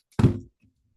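A single dull knock on a hard surface during an oracle card reading, close and brief, followed by near silence.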